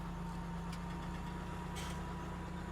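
A tractor engine in Farming Simulator 17 idles steadily while unloading harvested beans, a low continuous mechanical hum at moderate distance with no talk over it.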